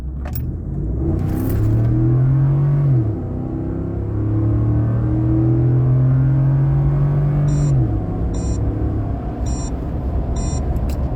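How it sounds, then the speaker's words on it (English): A 2015 Ford F-150 pickup with stock exhaust revs up hard twice, heard inside the cab as a deep rising drone, strong low rumble throughout, followed by a few faint high beeps near the end. "I'm going to hammer down on it just so we can get what the in-cab sound is on the stock exhaust"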